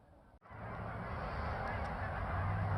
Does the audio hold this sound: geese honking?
yes